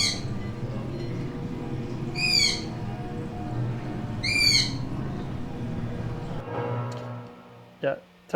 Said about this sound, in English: I got my my bird here just doing all the sound effects with me.